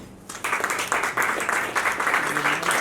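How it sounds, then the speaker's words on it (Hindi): Applause for a small film team at a movie launch event, rising after a brief quiet start into loud, continuous crowd clapping with rhythmic pulses. "सबसे पहले तो इस छोटी सी प्यारी सी टीम को एक जबरदस्त ताली चाहिए."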